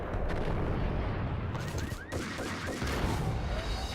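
A grenade blast in the Max Payne video game erupts as a loud, continuous roar of low rumbling explosions and gunfire-like crackle, dense and close throughout.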